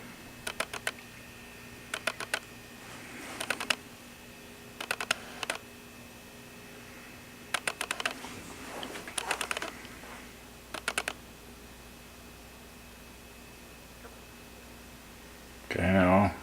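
Nikon D800 fitted with a Nikkor 24-70mm f/2.8 lens, its autofocus motor hunting with short bursts of faint whirring and clicking that come and go through the clip, ending in a louder rustle.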